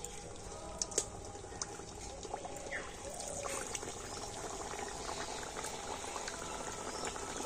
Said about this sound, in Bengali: আর সেই তেলের মধ্যে এবারে কচুরিগুলো দিয়ে দেব।